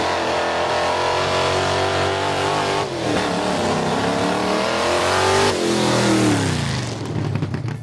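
A 1965 Mercury Comet B/FX drag car revs loudly in a parking lot, its engine roaring steadily, dipping briefly, then climbing and falling again, close and alone with no voices.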